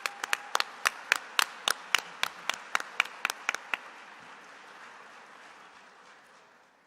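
At a technology awards presentation, about fifteen sharp, separate claps ring out in a quick, slightly uneven series, then stop and leave a faint fading room tail; fairly quiet, with no talking.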